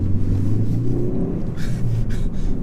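A 2017 Ford Focus ST-3 accelerates at half throttle from a junction. A deep, close engine rumble rises steadily in pitch, with faint road noise underneath.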